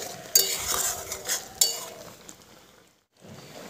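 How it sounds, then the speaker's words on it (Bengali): Sugar melting in a pan for amla murabba while being stirred, giving a soft scraping and stirring with a few utensil clinks against the pan, then a brief pause before stirring resumes, close and moderately quiet. "খুব ভালো করে চিনিটাকে এখানে গলিয়ে নিচ্ছি আর এখানে একটু নাড়াচাড়া করে নিচ্ছি যাতে কোনো রকমভাবে নিচে লেগে না যায়"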